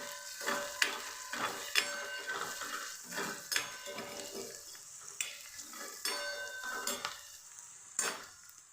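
Garlic paste sautés in a pan with a soft, low sizzle while a spoon knocks and scrapes against the metal in an irregular rhythm, fairly quiet and close, with no talking.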